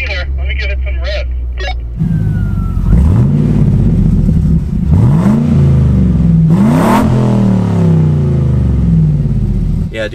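A Chevy Corvette's LS1 V8 with modified exhaust revs hard several times, loud and close, each blip rising and falling over a deep idle rumble, with a voice briefly heard at the start.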